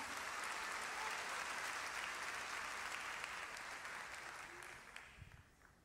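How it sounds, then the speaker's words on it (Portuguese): A church congregation claps in dense, sustained applause that gradually thins and fades near the end, with faint voices beneath it. "Você consegue aplaudir ao Senhor pela sua palavra agora?"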